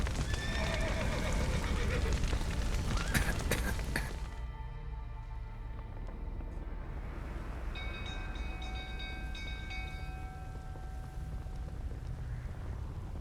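Horses whinny loudly amid clattering hooves and a heavy rumbling background in the video game The Witcher 3, then fade into a quieter mechanical drone.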